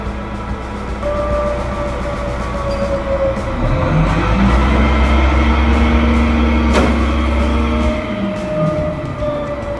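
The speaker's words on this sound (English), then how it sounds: "This is a noisy garage sometimes." A heavy truck repair garage servicing a Mack MP8 diesel engine, with a loud, continuous low rumble of engine and machinery; a rising and falling tone sweeps through the middle as a vehicle revs or passes nearby.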